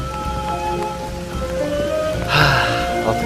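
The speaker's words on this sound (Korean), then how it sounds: "비는 그렇다 쳐도 천둥 번개까지 점점 심해졌기 때문이다" Heavy rain pours steadily over a fishing spot during a thunderstorm, a dense continuous hiss with a low rumble of thunder swelling midway, no voices.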